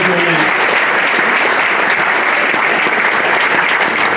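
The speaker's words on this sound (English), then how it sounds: "So a round of applause." At a St. Patrick's Day Foundation installation reception, a roomful of guests applauds loudly and continuously, a thick, close wall of clapping with only a trace of a voice at the start.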